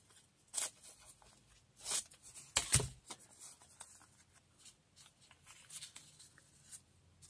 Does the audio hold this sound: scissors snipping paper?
yes